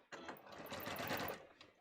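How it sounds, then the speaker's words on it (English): A sewing machine runs steadily for under two seconds, stitching a seam on contoured fitting pants and tapering a half inch to nothing at the crotch. The motor whirs loud and close, with no talk. "So see, I'm just sewing this half inch to nothing at the crotch level."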